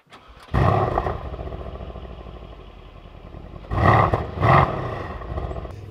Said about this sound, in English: We're just gonna start it up in comfort mode.